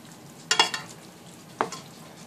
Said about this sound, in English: we're going to add half of our cheese to the meat mixture. And just stir that through.